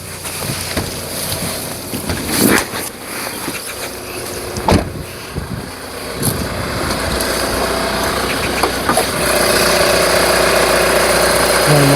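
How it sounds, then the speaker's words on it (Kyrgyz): A 2.5 litre diesel engine in a Hyundai Starex idles with a steady low rumble. It is heard close up under the open hood, alongside a few clicks and knocks from handling nearby. "Мотору таза, жакшы иштеп атат"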